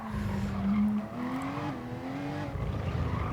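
A race car's tires slide and squeal in GT Sport at Fuji, a sustained whining squeal that wavers in pitch over a steady engine roar, heard alone without talking.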